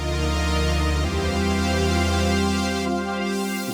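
Rich, sustained pad chord on a Korg microKORG synthesizer, bright and dense with layered harmonics, shifting to a new chord partway through and ringing steadily without voices.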